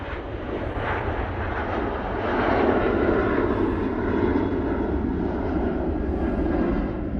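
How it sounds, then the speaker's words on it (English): A Boeing 737-800 airliner departing for Dublin produces a continuous, loud jet engine roar that swells slightly midway, with some wind rumble and no talking. "This 737-800 is going off to Dublin."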